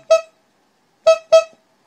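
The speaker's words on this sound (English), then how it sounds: "5 honks." A car horn honks in short, loud blasts: one toot, a pause, then two quick toots close together, with nothing else around them.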